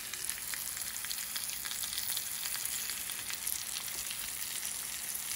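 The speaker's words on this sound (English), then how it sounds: "The sizzle." Curried chicken sizzles on a charcoal grill, a steady, bright, hissing crackle that holds at an even level throughout, close and with no talk.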